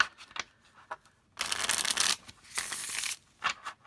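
Tarot cards being shuffled in two riffling bursts, crisp papery fluttering close by, separated by quieter taps and handling sounds.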